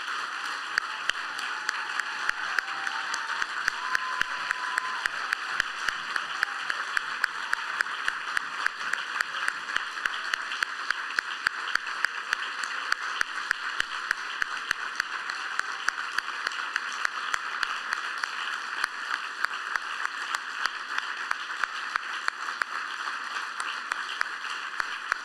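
Sustained audience applause at a youth music competition's closing concert, a dense steady wash of clapping from a large crowd lasting the whole stretch without pause.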